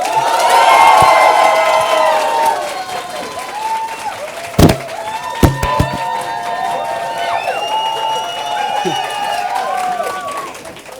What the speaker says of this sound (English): if you prefer for the show to be in English, applaud as loud as you can